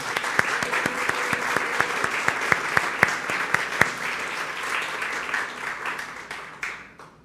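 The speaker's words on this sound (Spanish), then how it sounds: "Un aplauso para todas las madres." Applause from a church congregation after a mass, many hands clapping together in a steady dense patter with a few sharp louder claps, fading out toward the end with no talk over it.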